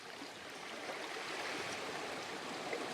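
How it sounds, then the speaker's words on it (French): Sea waves break against rocks in a steady, rushing wash of water, a continuous hissing surge heard from a moderate distance with no voices. "Tu entends sans doute toujours en arrière-plan le bruit des vagues qui viennent se fracasser contre les rochers."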